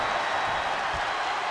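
A wrestling video game crowd gives a steady, moderately loud wash of cheering and applause, with a faint voice briefly underneath.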